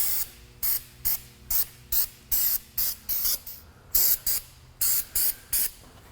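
Rust protection coating sprayed onto the underbody of a Honda Element in short, repeated aerosol bursts, each a loud close hiss with brief gaps and a rattling can between.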